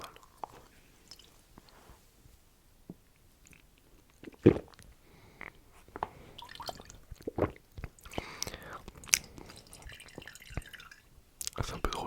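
Close ASMR sipping and drinking through a portable hiking water filter: wet sucks, swallows and drips in irregular bursts, intimate and quiet, with whispered talk alongside.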